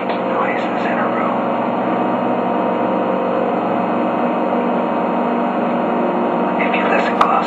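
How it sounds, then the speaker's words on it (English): A refrigerator running beside a fish tank in a room, picked up through a sensitive DIY FM transmitter: a steady, unbroken low hum with faint hiss, constant throughout, with a slight click near the end. "If you listen closely, you can probably hear the sound of the refrigerator running."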